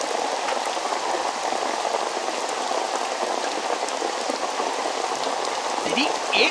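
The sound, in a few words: rain falling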